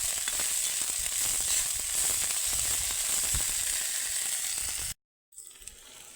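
Pahadi jambu herb and onion fry in hot oil in a pan for an air potato vegetable dish, giving a loud, steady, close sizzle that cuts out briefly near the end before resuming more quietly.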